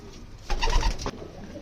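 A pigeon in a coop gives a single close, throaty coo lasting about half a second over low background noise.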